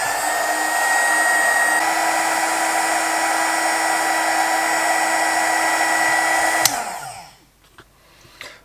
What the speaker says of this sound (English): I'm gonna hold this in the hot airflow, and I'm gonna see how easy it is, or even if it's possible to burn the heat shrink